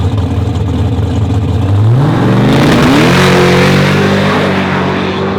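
A Chevy Camaro street car, running alone in a drag race shootout, idles loud and close, then launches with a rising engine roar whose pitch climbs steadily as it accelerates away, staying loud throughout.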